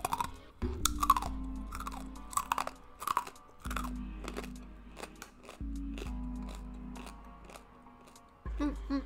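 Crunchy corn nuts being chewed close to a microphone, a series of sharp crunches and bites in an uneven rhythm, with low hum and brief noises in between.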